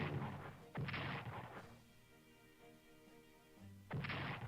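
Bombing runs in the WWII strategy game Strategic Command strike entrenched troops, giving two heavy, crashing explosion bursts separated by a quieter ringing stretch, each blast loud and sudden.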